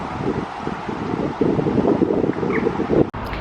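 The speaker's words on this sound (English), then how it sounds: "It's a bit windy today" Steady wind buffeting a microphone, a broad low rumble that swells and gusts throughout with no voices.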